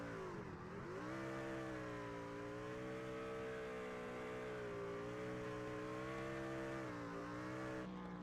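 Racing pickup trucks from the 0-5 team of Chad Stearns do victory burnouts at Michigan after a truck series race, a loud sustained engine roar with rising and falling revs, heard alone.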